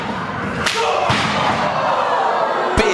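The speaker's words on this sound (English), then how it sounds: "Big running strike, my goodness." A wrestler's big running strike at a live independent show, with a couple of sharp slamming impacts and a final loud thud over a steady crowd and commentary.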